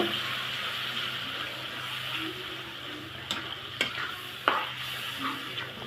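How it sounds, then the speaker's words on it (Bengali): Ground banana stem being stirred into spices frying in oil in a pan, with a steady soft sizzle and scraping under a few sharp clicks of the spoon against the pan near the end. "এখন মশলার সাথে ভালো করে মিশিয়ে নিব।"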